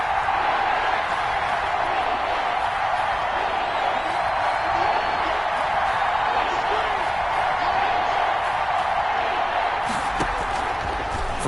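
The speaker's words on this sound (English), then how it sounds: "Crowd getting in it a bit already" Broad, constant roar of a stadium crowd in the Madden football video game, holding evenly throughout beneath a voice talking.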